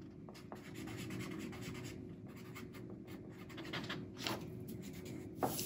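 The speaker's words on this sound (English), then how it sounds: "And I want you to write it down on the back of your paper." Pen or marker writing on the back of a sheet of paper during a neurographic art demonstration, steady close scratching strokes with a few sharper taps, quiet, no talk.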